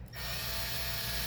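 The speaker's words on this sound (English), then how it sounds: "So first thing I need to do is drill a couple of holes." A power drill boring holes in a headphone robot automaton part, starting up and running as a loud, steady whirring grind close to the microphone for its whole length.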